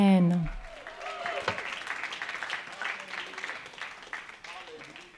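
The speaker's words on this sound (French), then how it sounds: "Donnons un grand applaudissement à ma merveilleuse femme." Applause from a church congregation rising after a brief sung or spoken phrase, a moderately loud, sustained wash of clapping that fades gradually, with a voice briefly over the start.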